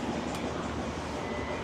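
A Beijing subway Line 8 train running underground, heard as a steady, dense broadband rumble and roar with no distinct clacks, loud and continuous throughout the short stretch.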